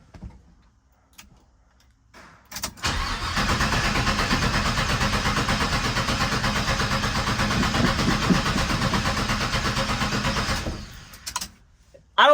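The engine of a 1977 Chevy C10 cranks over and over without catching, a loud close rhythmic churning that runs for about eight seconds after a few soft clunks, then stops.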